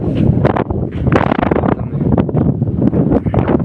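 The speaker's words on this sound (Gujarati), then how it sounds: "અત્યારે જો વાવાઝોડું ખતરનાક પવન આવી ગયું છે" Strong gusty wind roars and buffets the microphone continuously, loud and turbulent throughout with no talking.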